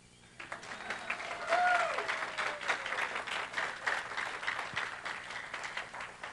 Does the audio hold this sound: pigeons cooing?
no